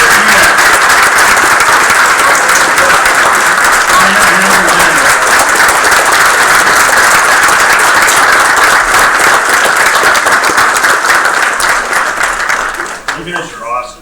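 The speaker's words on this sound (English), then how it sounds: "Let's give them another round of applause." Loud, sustained applause from parents and grandparents at a school board meeting, a dense wash of clapping that holds strong for most of the stretch before tapering off near the end.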